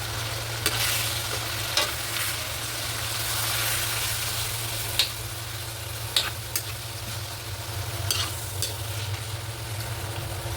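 Garlic and ground meat sauté in a pan for palabok, a soft continuous sizzle over a low steady hum, broken by a few sharp clicks and scrapes of a utensil at intervals, with no voices.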